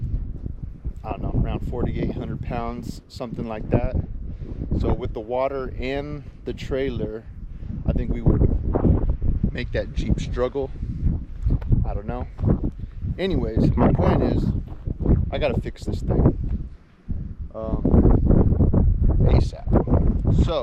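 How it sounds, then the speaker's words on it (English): Wind buffets the microphone with a low, gusty rumble beneath someone talking steadily throughout, outdoors on a windy day in the Arizona highlands. "sorry for the wind too. It's another windy day"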